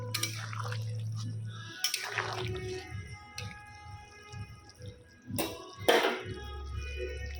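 A pot of vegetable curry with pointed gourd, potato, lentil cakes and green chillies simmers gently, giving soft, scattered bubbling plops and a few louder pops over a low background hum.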